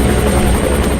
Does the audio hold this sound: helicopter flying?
yes